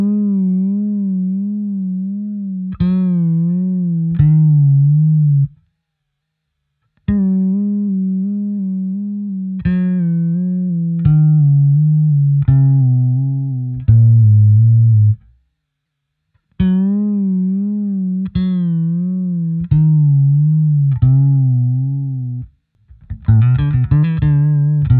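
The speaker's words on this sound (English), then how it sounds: "here we can pick between sine wave and triangle wave. Let's listen to how both of them sound like, and I've dialed in some kind of extreme settings." A Vibralis vibrato effect runs at extreme settings, switching between sine and triangle wave shapes. Repeated sustained synth notes wobble deeply in pitch, separated by short silences, and a final flurry of rapid notes ends the passage.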